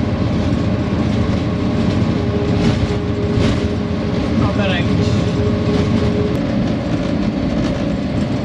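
A Pakistan Railways locomotive running toward Lahore Cantonment, heard from inside the cab: a loud, constant engine rumble and rolling rail noise with a brief tonal whistle-like squeal in the middle, and crew voices talking over it.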